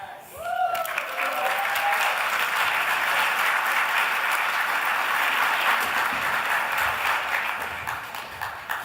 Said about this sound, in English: The applause got short.